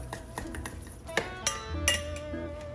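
Sugar and butter being mixed in a bowl for a slow cooker cheesecake crust, with repeated clinks and scrapes of a utensil against the bowl in an uneven rhythm, close by and alone.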